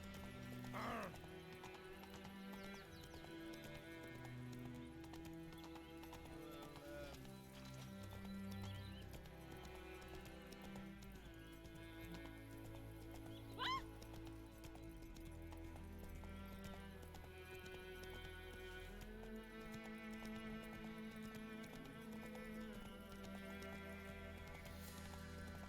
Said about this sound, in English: The horse won't go around that.